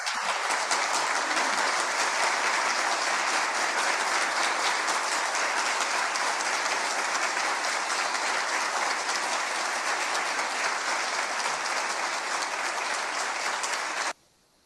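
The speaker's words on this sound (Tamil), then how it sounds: "இதற்காக நாங்கள் பாராட்டி கரகோஷம் செய்கின்றோம்" An audience applauds at a Tamil-language speaking event, a thick, continuous roar of many hands clapping at an even level for about fourteen seconds before stopping abruptly.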